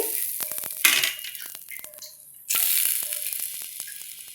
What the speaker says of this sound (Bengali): বাকিগুলো এই যেগুলো সব এইভাবেই ভেজে নিতে হবে